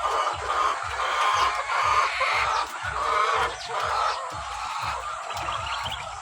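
Layer hens cluck continuously in a busy chorus inside a poultry house, many birds at once close by, with a steady repeated low thumping rhythm underneath.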